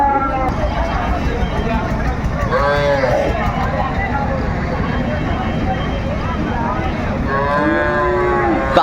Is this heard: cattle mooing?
yes